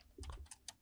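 A few quick, faint keystrokes on a computer keyboard, typing a Linux iptables command in a quiet room.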